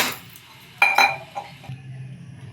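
A spoon knocks and scrapes inside a kadai of rava kesari with sugar, a few sharp metallic clinks followed by softer stirring, close and alone.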